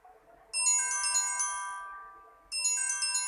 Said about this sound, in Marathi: आता कोणाची फोन आहे?